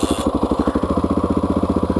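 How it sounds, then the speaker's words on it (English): A Honda XR650R motorcycle kick-starts and catches, settling into a loud, close single-cylinder idle with a fast, even thumping exhaust pulse. "there's just something about kick-starting a bike that is so fucking satisfying"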